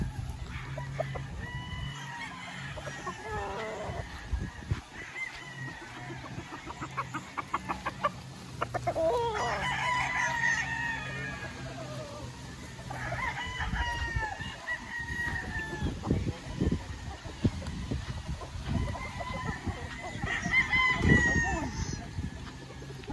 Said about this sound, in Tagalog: pogi ng manok